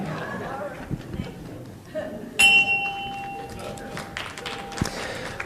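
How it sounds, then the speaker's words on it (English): A bell at a club meeting gives a single bright strike that rings on and decays slowly, heard over the murmur and chatter of the room. "So ring the bell twice for me."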